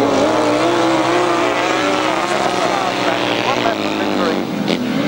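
Grasstrack motorcycles race at full throttle, their engines a loud, continuous, buzzing roar that shifts in pitch as the bikes pass, with a commentator talking over the noise.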